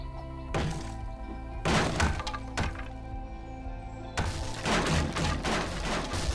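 Structures crashing down in the 7 Days to Die console game: heavy thunking impacts with shattering, breaking debris, one burst near the start, another mid-way and a sustained loud rumble of collapse toward the end, with no talking.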